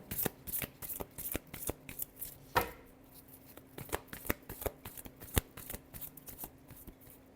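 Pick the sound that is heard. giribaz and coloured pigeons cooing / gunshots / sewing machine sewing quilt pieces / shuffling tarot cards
shuffling tarot cards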